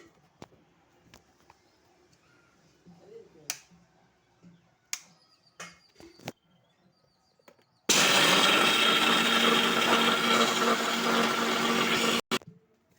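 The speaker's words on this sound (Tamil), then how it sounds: "ஓகே கைஸ், நம்ம இதை அரைச்சிடலாம்." A mixer grinder grinds roasted gram (pottukadalai) into powder for laddu, starting with a loud, steady roar that runs about four seconds and cuts off abruptly, after scattered quiet clicks and taps.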